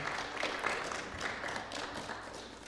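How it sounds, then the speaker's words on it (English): An audience applauds Wreaths Across America volunteers at an indoor presentation: a brief, fairly faint patter of clapping hands from a crowd, steady then tapering off. "Give these folks a round of applause"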